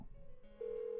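A telephone rings in the Persona 4 video game, a steady electronic tone that starts faint and then swells into a louder sustained ring over a low background hum.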